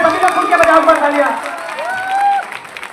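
Audience at a Hindi comedy poetry gathering (kavi sammelan) breaks into clapping and cheering, a dense crowd wash with a whistle-like tone rising near the end, fairly loud throughout.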